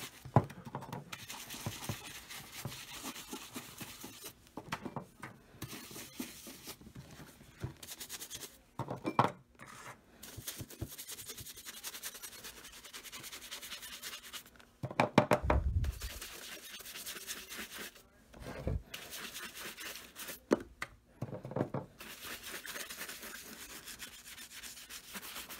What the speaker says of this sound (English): And just going to start scrubbing. Saddle soap cleans the leather and conditions it.